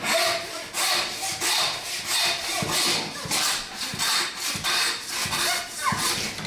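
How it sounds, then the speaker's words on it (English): A hand saw rasps back and forth through beef rib bone in steady, repeated strokes, close and fairly loud, with no talking. "I'm sawing through a bone, but not all the way"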